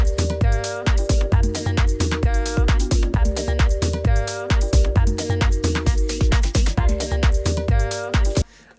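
A steady minimal tech electronic groove, an edit of a song, with punchy kick drums, deep bass and a vocal layer, looping loud and even before cutting off abruptly near the end.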